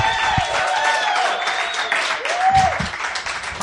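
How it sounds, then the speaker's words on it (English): At the close of a live podcast show in Philadelphia, a studio audience breaks into applause, steady clapping with whoops and a few whistles rising above it. "You can applaud."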